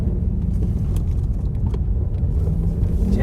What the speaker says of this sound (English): And you can hear the engine a lot more in sport